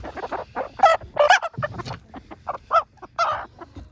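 Laying hens in a coop cluck in a steady, busy series of short calls, close and fairly loud, with several birds overlapping throughout.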